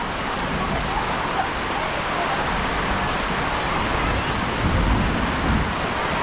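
Heavy rain pours steadily outdoors in Texas, a dense, loud, unbroken hiss and patter with a low rumble underneath, filling the whole stretch without letup.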